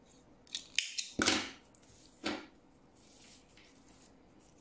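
Scissors snip through twisted paper rope in a few sharp, close cuts with quiet pauses between them, made while crafting a handbag.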